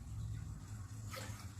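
Water rinsed out of a bowl pours into a pot of simmering pepper-tomato rasam, a short close splash over a steady low kitchen hum.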